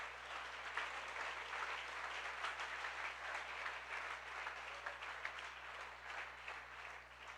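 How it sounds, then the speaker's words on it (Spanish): A church congregation claps for Jesus during a Spanish-language sermon, a sustained, even wash of applause from many hands over a low steady hum. "Dele ese aplauso fuerte al Señor Jesús."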